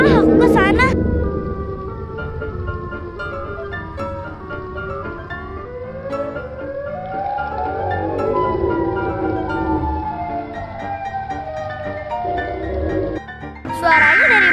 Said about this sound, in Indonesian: Itu kayaknya ada suara sirene deh.